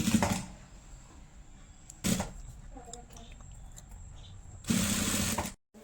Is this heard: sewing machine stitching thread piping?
yes